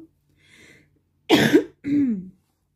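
Two harsh, forceful coughs close to the microphone, one after another, preceded by a faint murmur.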